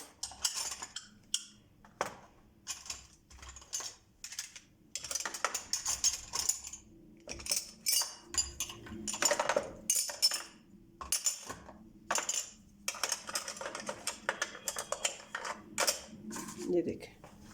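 Metal spoons clink and clatter one after another as they are set into a kitchen cutlery organizer: sharp, close clicks and jingles come in bursts with short pauses between handfuls.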